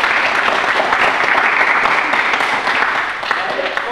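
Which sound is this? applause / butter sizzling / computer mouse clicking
applause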